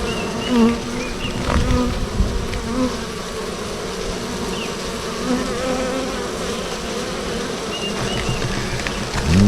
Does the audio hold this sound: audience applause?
no